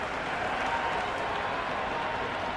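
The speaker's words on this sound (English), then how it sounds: "The crowd is electric right now." Dense, steady crowd noise fills a cricket stadium during an IPL eliminator between Mumbai Indians and Gujarat Titans, a loud continuous roar of cheering and applause with no pauses.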